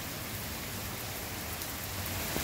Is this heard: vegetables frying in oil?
no